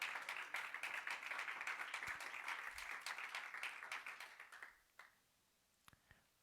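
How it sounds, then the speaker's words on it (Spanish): Congregation applauding at a church service, a dense wash of many hands clapping steadily for several seconds before fading out, with a few scattered late claps at the end. "¿Cuántos le dan palmas al Rey?"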